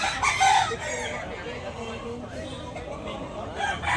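A young Green League gamecock stag crows close by at the start, followed by steady clucking and farmyard clatter while someone talks over it.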